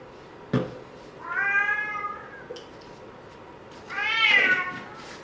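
A cat meows twice, drawn-out and close, with a short pause between calls and a couple of soft knocks.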